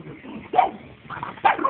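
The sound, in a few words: dogs barking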